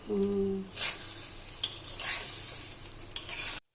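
Rice grains sizzle and hiss steadily in hot ghee in a pan while a spoon scrapes and stirs with a few sharp clinks against the metal.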